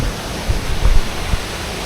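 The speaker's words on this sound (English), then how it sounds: "So we're just tracing this waterfall. You can hear it down here." A waterfall rushes somewhere below during an off-road drive through the Waikato in New Zealand, a steady broadband roar with a few low thumps and bumps breaking through.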